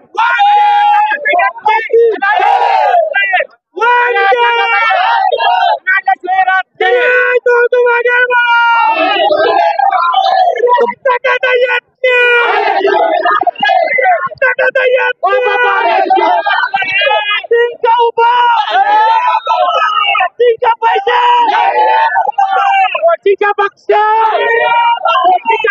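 Political supporters of Girish Mahajan chant slogans and cheer at his election victory celebration: loud, massed voices in rhythmic bursts with only brief gaps, close and continuous.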